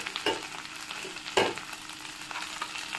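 Moringa leaves and curry leaves fry in a pan, a soft sizzle with a couple of sharper stirring scrapes and crackles near the start and middle.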